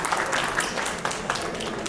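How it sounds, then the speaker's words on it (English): Audience applause at a regional financial inclusion conference as bank panelists are introduced, a steady wash of many hands clapping at moderate distance, fairly soft and even throughout. "Please clap for them."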